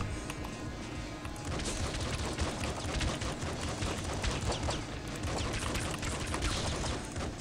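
Rapid gunfire from the top-down shooter video game Nuclear Throne rattles on steadily as a dense, continuous burst. Faint game sounds sit underneath, and no one speaks.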